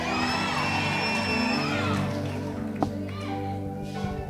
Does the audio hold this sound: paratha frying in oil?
no